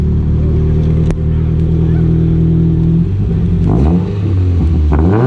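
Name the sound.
car exhaust revving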